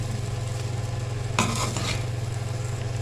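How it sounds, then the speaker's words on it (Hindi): Egg fried rice being stirred and mixed in a hot pan, a steady low sizzle with one brief scraping stir of utensil against pan midway. "ये देखें जी चावलों को मैंने अच्छे से मिक्स कर लिया है"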